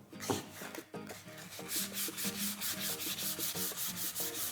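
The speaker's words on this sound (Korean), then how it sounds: "이렇게 사포질을 할 겁니다." Steady rhythmic rasping of sandpaper rubbed back and forth on a solid wood cutting board, close up, with regular strokes and no voices.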